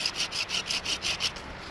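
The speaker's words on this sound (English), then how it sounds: "I'm just going to cut my little spile" Rhythmic back-and-forth cutting strokes of a knife or small saw carving a wooden spile from a birch branch outdoors, about eight quick rasping strokes close up with no talking.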